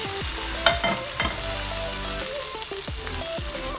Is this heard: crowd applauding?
no